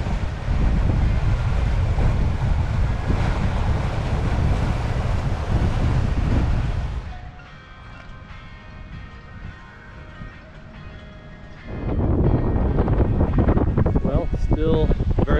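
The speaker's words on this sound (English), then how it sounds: "Still very windy." Strong wind buffets a sailboat heeled hard over on Kentucky Lake, loud roaring gusts with water rush that ease briefly mid-way and then surge back just as strongly; a voice is briefly heard.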